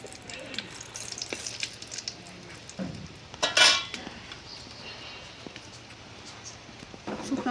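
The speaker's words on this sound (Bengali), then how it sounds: "এখন সিম আলু দিয়ে ভাজা শুরু করে দেবো" Beans and potatoes fry in a pan with a soft sizzle, with clinks of a utensil stirring against metal and a sharp scrape midway, while a voice talks over it.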